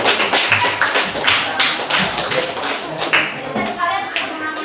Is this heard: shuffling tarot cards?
no